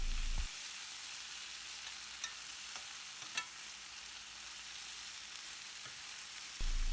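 Brinjals cooking in a pan for vangi bath give off a steady, fairly quiet sizzle with a few small crackles throughout, alone with no talking.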